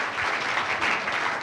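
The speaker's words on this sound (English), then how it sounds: "if you'll clap for him again" An audience claps warmly for a keynote speaker at a health and biomedicine talk, a dense and steady applause that holds throughout at an even, moderately loud level with no voices over it.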